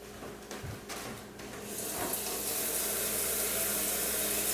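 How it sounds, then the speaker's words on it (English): Hands washed under a running sink tap in a home kitchen, where the water switches on partway through and then flows in a steady, loud rush close by, with no talking. "I'm gonna wash my hands."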